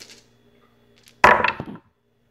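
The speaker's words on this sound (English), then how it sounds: "wait till you hear these dice inside of it" Dice tumble into a felt-lined wooden dice box, producing one sharp clattering burst of knocks and rattles that settles quickly into silence.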